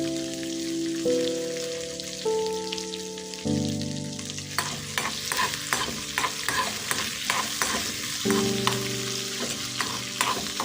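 Onions and cashews frying together in a pan crackle and sizzle briskly with frequent stirring clicks, up close, while a simple melody plays in the background.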